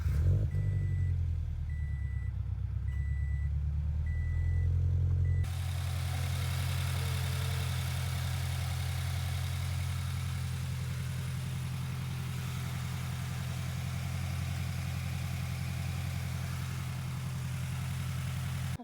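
A Subaru BRZ engine cranks and catches, then settles into a steady, close idle that rumbles on unchanged, with faint beeping at the start.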